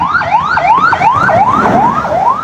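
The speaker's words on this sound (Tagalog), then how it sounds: "May dadaang ambulansya oh." An ambulance siren wails loudly and close by in a rapid rising-and-falling yelp, repeating about six cycles without any talk.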